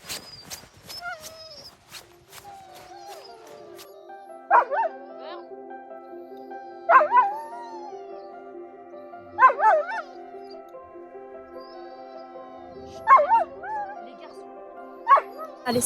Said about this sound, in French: je vais diriger pour la première fois un traîneau tiré par 4 chiens